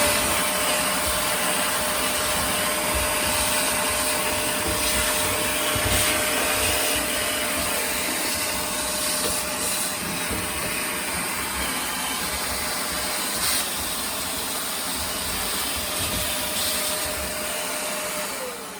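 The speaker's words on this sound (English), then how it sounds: "you just want to just vacuum it and get all this stuff out too" A vacuum cleaner sucks lint from inside a clothes dryer, roaring steadily and close throughout, its motor drone unbroken, with occasional faint rattles as it sucks debris.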